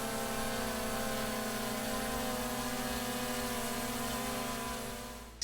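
A DJI Mini 3 Pro drone hovers nearby with a steady, high-pitched propeller whine, constant and fairly quiet, fading slightly toward the end.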